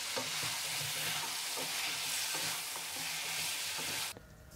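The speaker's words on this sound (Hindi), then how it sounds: "अब 3 से 4 मिनट हम इसको मजीद भून लेंगे। आंच हम मीडियम ही रखेंगे" Chicken sizzling and frying in a kadai with ginger-garlic paste and cumin over medium heat, a steady loud crackle with stirring scrapes throughout, cutting off abruptly near the end.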